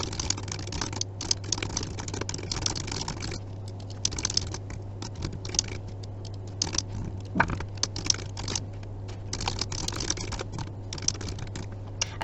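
Fingers tap steadily on a computer keyboard while a message is typed: quick, close, fairly quiet clicks in irregular bursts over a low constant hum, with no talking.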